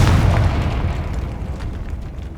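A Confringo blasting spell goes off in Hogwarts Legacy, a deep booming explosion right at the start that rolls out into a long rumbling decay with scattered crackles.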